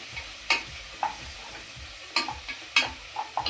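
Masala of mint and coriander leaves being stirred in a pan with a spoon, quiet steady sizzle under a few sharp scraping clinks of the utensil against the pan, close and fairly soft.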